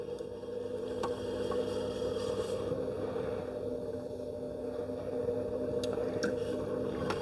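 Clay being kneaded and worked by hand to soften it and push out air bubbles before throwing on a potter's wheel, a steady close run of soft squishing and pressing with small wet squelches.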